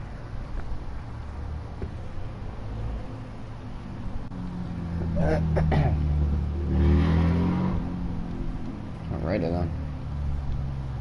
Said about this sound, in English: Somebody's got a loud ass car outside.